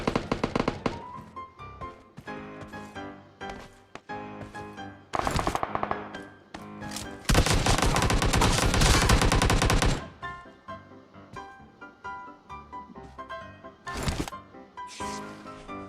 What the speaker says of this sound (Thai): เมื่อกี้ยิงมาจากไหนผมมองไม่เห็นนะครับ